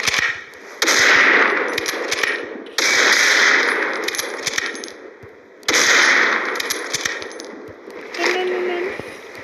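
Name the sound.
gunfire in a shooter video game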